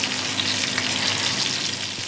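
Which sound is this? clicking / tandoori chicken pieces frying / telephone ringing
tandoori chicken pieces frying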